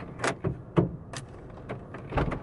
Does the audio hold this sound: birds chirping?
no